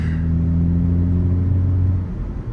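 Hyundai Kona N driving through a corner, a loud steady engine rumble with a deep hum that drops in pitch toward the end, no talk over it.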